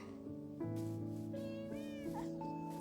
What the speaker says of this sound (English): This is just random alley cat.